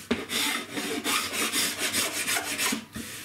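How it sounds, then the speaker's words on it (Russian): A hand cabinet scraper rasps over wood, shaving off dried glue residue in a quick series of about a dozen close, rhythmic strokes, with no talking. "поэтому мне проще быстрее снять циклей"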